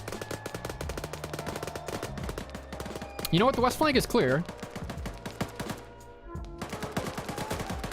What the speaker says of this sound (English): I think there's too much gunfire.